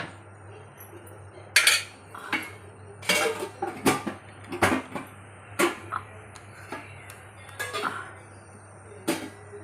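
A utensil stirs fried gongura leaves with spices in a pan, giving a series of irregular metallic clinks and scrapes against the pan over a low steady hum, with no talking.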